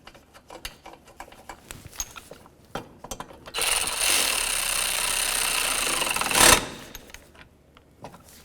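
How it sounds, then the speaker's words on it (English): Small screw driven through a part into a headlight bracket on a 2009-2016 Mercedes-Benz E350, preceded by faint clicks and handling noise, then a steady close-up ratcheting drive lasting about three seconds that ends with a brief louder burst. "We're going to put in this little screw. Comes right through this and then into the bracket."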